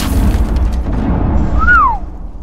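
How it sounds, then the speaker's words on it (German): A breaching charge blowing through from the floor above in Rainbow Six Siege, a deep rumbling boom that rolls on for about two seconds with a rising-and-falling whine near the end. "Da oben hat sich nämlich jetzt gerade schon einer durchgesprengt."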